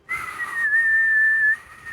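A person whistles to imitate a meteor falling in the game Path of Exile, producing one clear, sustained whistled tone of about a second and a half, close and loud, with no other sound around it.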